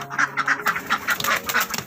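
Egg-laying ducks quack in a rapid run of repeated nasal calls, fairly close and steady, with several birds overlapping.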